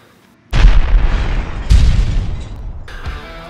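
A loud burst of computer-generated fire flares up with a deep boom, roars on, then flares again a second later before tailing off into a crackling hiss; no talk over it.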